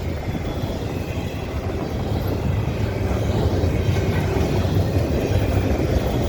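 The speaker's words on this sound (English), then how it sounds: "This looks like a pretty heavy, long train" A heavy CN double-stack freight train rolls past in winter at Dorval with a continuous loud rumble and rattling wheels, growing slightly louder and steady throughout.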